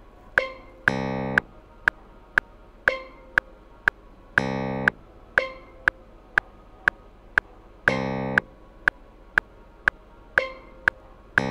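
A steel drum and a clavinet play together in a counting-based polymeter over a steady click track, with ringing drum notes decaying between longer bright clavinet tones that return at regular intervals; no voices.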